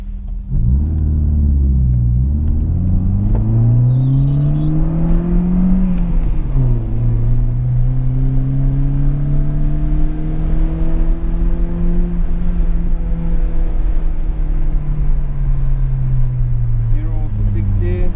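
A 1991 Mercedes 124 200CE petrol engine accelerates through the gears in city driving, a loud, close cabin drone whose pitch rises, dips at a gear change, then climbs again, while someone talks over it.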